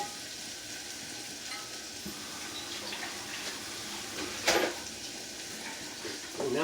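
Onions fry in a hot pan with a continuous crackling sizzle, steady and close, with a brief louder burst of spattering midway and a rising hiss near the end; no one speaks.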